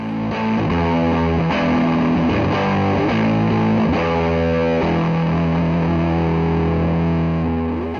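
An electric guitar played through a TC Electronic MAGUS Pro high-gain distortion pedal, thick and saturated, with sustained chords and riffs ringing out continuously.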